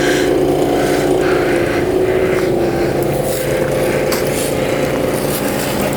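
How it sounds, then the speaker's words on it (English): A John Deere WH52A hydrostatic walk-behind lawn mower with a Kawasaki engine runs steadily, a loud, close, continuous engine drone with a rough mechanical rattle and no speech. "It's my John Deere WH52A there. It's a bad boy hydros."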